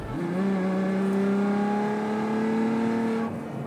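A Ferrari engine revs hard under full-throttle acceleration after a kickdown from seventh to fourth gear, a loud rising howl that climbs steadily for about three seconds and then cuts off abruptly.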